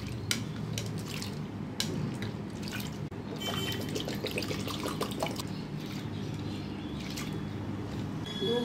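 Split peas (matar dal) being washed in water, with steady close dripping, splashing and sloshing of liquid continuing throughout at an even level.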